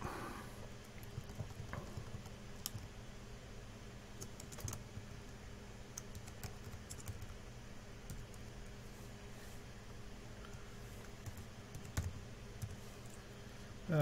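Someone types on a Mac System 6-era computer keyboard, producing soft, irregular key clicks at close range over a low background hum, with occasional sharper taps.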